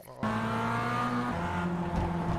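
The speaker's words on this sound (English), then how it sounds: "So, can you hear any engine noises?" A race car engine at high revs under throttle, steady and loud, with the pitch shifting as the driver lifts off and then gets back on the power.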